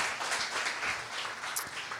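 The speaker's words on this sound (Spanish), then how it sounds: "¿Por qué no da un aplauso a nuestro Señor?" Scattered congregation applause at a Sunday church service, moderately quiet and steady with a slightly distant, roomy character, no clear voice on top.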